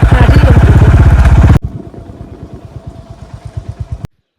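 A motorcycle engine putters with a steady, rapid thumping rhythm, loud at first, then dropping to a quieter idle before cutting off abruptly, in a village near Hoshiarpur, Punjab.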